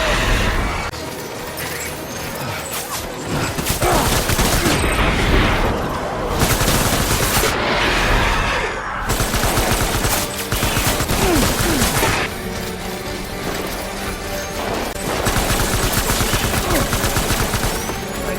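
Sustained gunfire from a firefight in Death Stranding, rapid automatic bursts and heavy shots rattling loudly and almost without pause, layered with explosions and battle noise.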